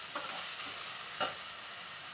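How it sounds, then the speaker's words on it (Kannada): Brinjal slices sizzle steadily in hot oil in a pan, a soft continuous crackle with a brief louder burst of stirring partway through; no voices. "ಈ ಥರ ಅದನ್ನು ಎಣ್ಣೆಯಲ್ಲಿ ಹುರ್ಕೋಬೇಕು."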